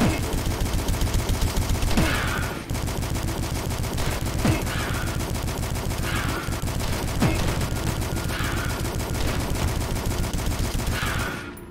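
Sustained rapid assault rifle fire in the video game DUSK, loud and close, with a dense rattling burst running almost the whole time and only brief breaks.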